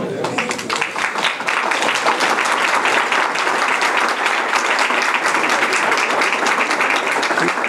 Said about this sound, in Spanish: No hay nada más socorrido que lo aplaudan a uno al principio